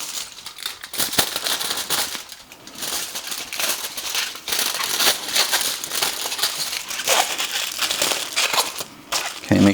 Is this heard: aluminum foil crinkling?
yes